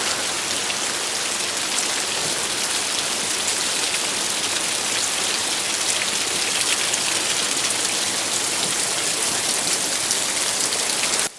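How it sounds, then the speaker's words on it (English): Heavy rain pours steadily on a California homestead, a loud, dense, unbroken hiss of drops hitting surfaces that lasts throughout with no voices. "I said it was going to rain, and here it is."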